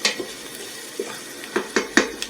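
Onions frying in a pan for cream of mushroom soup, with a soft sizzle under a handful of sharp clinks and scrapes of a utensil against the pan, the last few close together.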